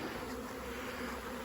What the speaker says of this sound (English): Extremely loud buzzing, very loud.